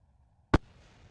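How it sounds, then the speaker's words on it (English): A rocket blows up in Kerbal Space Program with one sudden sharp blast that fades into a low crackling rumble, breaking a near-silent stretch. "Ooh, that was a mighty explosion."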